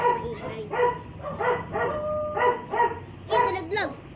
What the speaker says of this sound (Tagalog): Kaya ang ingay na. Ganun talaga pag aso, maingay.